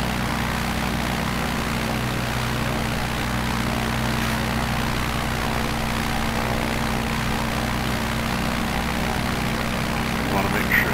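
A propeller plane engine in Microsoft Flight Simulator 2020 on Xbox Series X drones steadily and loudly throughout, a constant hum under intermittent talking.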